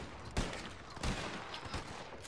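Gunfire from a distant sniper in Red Dead Redemption 2, heard as a few sharp, echoing cracks spaced about half a second apart over a steady, noisy outdoor background.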